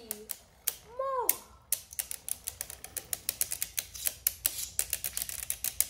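Beyblade spinning tops, Geist Fafnir and World Spriggan, clash in a battle stadium with rapid, irregular clacking and ticking hits. A short excited voice cuts in near the start, and the hits then continue steadily.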